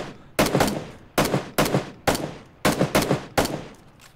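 Gunfire from the battle royale video game PUBG: about eight sharp shots crack out in an uneven rhythm, each with a short decaying tail, fairly loud and with no talk over them.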